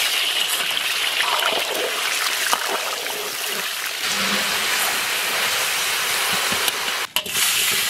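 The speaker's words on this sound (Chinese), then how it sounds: "先把鸡翅煎一下" Chicken wings frying in a pan, a loud continuous hissing sizzle like heavy rain, steady throughout with a brief clatter near the end; no talk.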